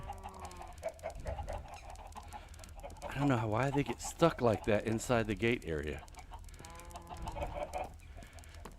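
Minecraft chickens cluck in a quick, moderately loud burst of several calls in the middle, while someone talks before and after.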